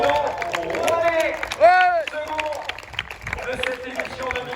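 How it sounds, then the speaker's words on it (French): Crowd applause and clapping at the finish of the 2020 Echappée Belle trail race for runner Renaud Rouanet, steady beneath an announcer who talks loudly over it throughout. "Mesdames et messieurs, des applaudissements pour Renaud Rouanet"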